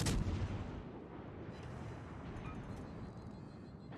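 Naval gunfire from battleships in World of Warships Legends: one deep, booming shot opens the clip, followed by a rumbling, fading roll, fairly faint with no voices.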